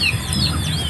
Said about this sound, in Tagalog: Ayan mga katitik.